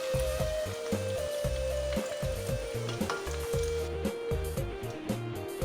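Garlic frying in hot oil, a steady close sizzle and crackle with faint stirring clinks, continuing without a break.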